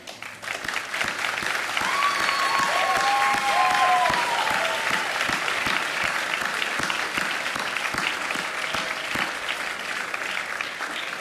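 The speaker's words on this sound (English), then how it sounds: "show them your appreciation with a round of applause" Continuous, full applause from a large crowd at a school commencement ceremony, even and sustained for over ten seconds with cheering voices mixed in.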